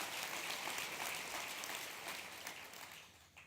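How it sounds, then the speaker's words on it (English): A round of applause at a Denver Kids event, quiet and distant-sounding clapping from a crowd that holds steady and then thins out and fades near the end. "A big round of applause for Margaret and 25 plus years of service at Denver Kids."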